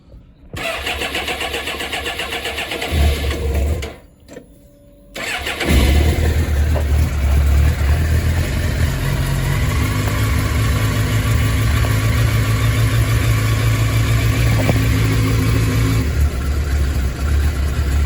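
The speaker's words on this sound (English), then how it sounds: "Yes, it's cold now, so let's see a cold start." A 1998 Suzuki GSX-R 750 SRAD motorcycle, cold and on choke, cranks and fires, stalls briefly, then restarts into a loud, steady, fast idle that runs on without talk.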